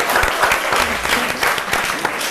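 A crowd claps in a steady burst of applause, dense and fairly loud throughout.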